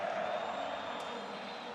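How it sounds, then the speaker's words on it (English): A crowd at a CS GO esports match, SK versus Space Soldiers at ESL One Belo Horizonte, keeps up a loud, steady roar of massed voices that could be the start of a patriotic chant. "Crowd just starting to get patriotic chant rather than a cheer this time."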